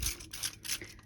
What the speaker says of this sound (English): and spray with this bottle of mine